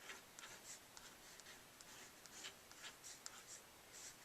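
A small black fine-tip pen drawing around a flower on paper, quiet scratchy strokes in short irregular bursts, close and faint with no talk.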